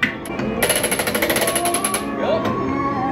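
A 150-pound mechanical hammer at a theme park workshop pounds on metal in a fast, loud, steady run of close, ringing strikes that continue for about two seconds before the machine winds down.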